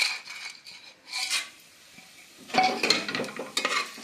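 Whole spices are stirred in coconut oil with a little ghee in a pan: cardamom, peppercorns, cinnamon, cloves and fennel. A spoon scrapes and rasps in short bursts over a light sizzle, close up, with no voices.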